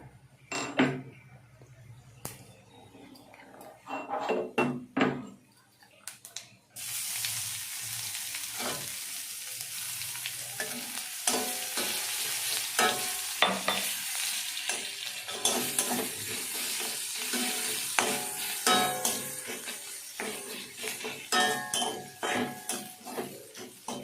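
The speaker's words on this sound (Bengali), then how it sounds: "রসুনটা একটু লাল লাল করে নেব।" Crushed garlic sizzles in hot oil in a pan, first with metal spoon clinks and scraping, then a sudden loud continuous frying hiss with repeated stirring and knocks against the pan, close by.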